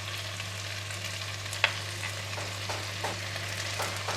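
Choy sum stems with oyster sauce stir-frying in a wok, a steady sizzle over a low hum, with a sharp clank and a few scraping strokes of the spatula, near and without talk.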